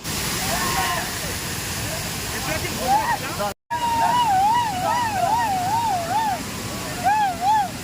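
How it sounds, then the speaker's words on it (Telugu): Bugga waterfall in forest near Sarkepalle, Wankidi, Asifabad, a steady broad rush of falling water filling the whole clip, with a brief cutout midway and a wavering whistle-like tone riding over it. "పల్లిలో బుగ్గ వాటర్ ఫాల్స్ అయితే వచ్చినాం మనం."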